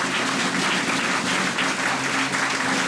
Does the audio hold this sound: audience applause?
yes